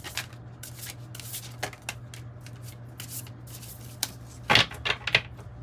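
Tarot cards being shuffled by hand, a stiff deck that resists, giving soft papery riffles and rustles in a quiet room, with a sharper flurry of card snaps near the end.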